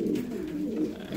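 Pigeons kept loose with their young give soft, low, continuous cooing close by, a steady murmuring rumble with no talk over it.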